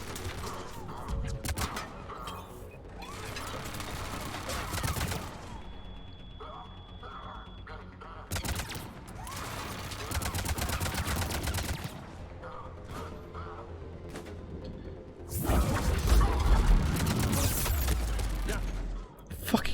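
Turret fire in Mass Effect Legendary Edition arrives as repeated bursts of rapid shots and crashing impacts, loudest in dense clusters near the start and end, over busy game effects with voices talking throughout.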